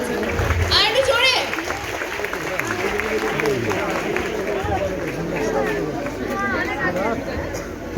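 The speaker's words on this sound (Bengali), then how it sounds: "Pritam Maitiর জন্য একবার জোরে হাততালি হয়ে যায়" A live stage audience claps loudly for Pritam Maiti at a Bengali dance show, a dense continuous applause with crowd chatter and voices mixed in throughout.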